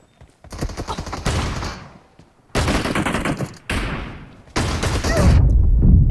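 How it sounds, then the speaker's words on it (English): Gunfire in the mobile battle royale game PUBG Mobile, loud close bursts of rapid automatic shots in three or four sustained volleys separated by short pauses. "Yeah, this guy's just shooting everyone."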